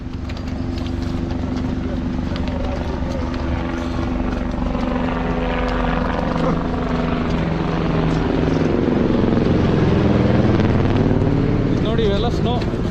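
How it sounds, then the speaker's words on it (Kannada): A helicopter drones steadily near the Amarnath glacier on a snowy pilgrimage trail, its rotor and engine rumble loud and continuous throughout, with voices and crowd noise mixed in beneath. "ಒಂದು 15 ನಿಮಿಷಕ್ಕೆ ಒಂದೊಂದು ಹೆಲಿಕಾಪ್ಟರ್ ಬರುತ್ತಪ್ಪ."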